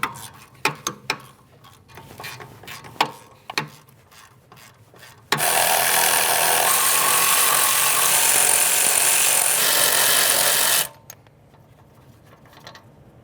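A power tool spins out the 19mm rear wheel bearing hub mounting bolts on a 2009-2014 Nissan Maxima 3.5L, a loud steady rasping whir lasting about five seconds after a few light clicks and taps, then cutting off abruptly.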